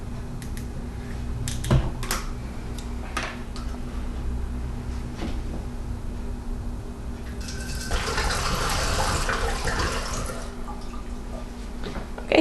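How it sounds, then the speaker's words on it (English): Apple juice pours into a carboy for homebrew apple wine, with intermittent splashes and clunks early on, then a louder steady gush of liquid filling near the end, close and without talk. "So I'm just going to start by putting the apple juice in the carboy."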